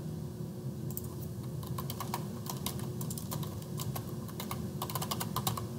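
Fast, steady typing on a computer keyboard, crisp keystroke clicks in irregular bursts over a constant low background hum, close and fairly loud, with no talking.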